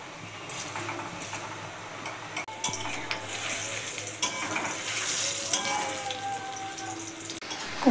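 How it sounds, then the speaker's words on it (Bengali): Raw banana kofta balls frying in hot white oil, a steady close sizzle with bubbling and occasional clinks of a utensil against the pan. "কোফতাগুলো সব বানানো হয়ে গেছে, এবার এগুলোকে আমি ভাজা করব। তেলটা গরম হয়ে গেছে,"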